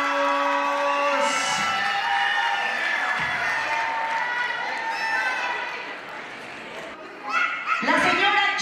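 Applause and whoops from an audience at the Nuestra Señora Utah 2022 pageant, a dense, steady wash of clapping and cheering voices that swells again near the end.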